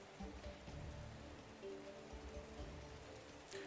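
Rain pours steadily over a cemetery in a video game scene, a dense, faint hiss of drops on surfaces with no voices.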